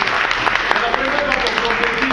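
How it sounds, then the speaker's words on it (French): Applause from an audience at a political party gathering in Brussels, a dense wash of clapping with people talking over it throughout. "Donc, on applaudit un peu."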